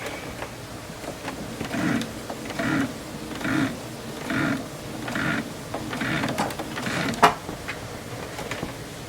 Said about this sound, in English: I'm guiding my fabric under the needle